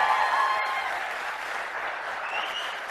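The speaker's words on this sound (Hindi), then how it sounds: "जरा ताली तुली बजा के बता दो तो ऊपर बैठे हैं लोग यार" Audience applause fills a lecture hall, a dense steady patter of many hands clapping at once, fairly loud and continuous with no voices over it.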